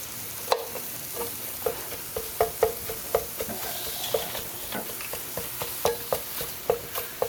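Ground meat, leaner than pork sausage, sizzling and frying in a pan for a breakfast casserole, with a steady rhythm of sharp scraping and chopping strokes from a spatula breaking it apart, close and loud over a constant crackle.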